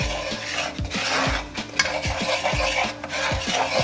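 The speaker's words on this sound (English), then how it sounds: "We're making a little roux here." Butter and flour roux is stirred in a pan over a sauce-making stove, with a utensil scraping in rhythmic, repeated strokes over a faint sizzle, close and fairly loud, without speech.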